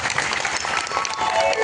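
An outdoor crowd at a religious discourse gathering claps enthusiastically, a short, loud burst of applause that stays strong across the moment.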